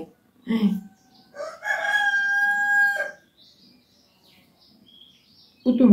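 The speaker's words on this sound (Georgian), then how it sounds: "ჩიტების ხმა რო გამოკვეთილად ისმის და ქათმის." A rooster crows loudly and close by in one long drawn-out call, with brief clucks from chickens before it and another starting at the end.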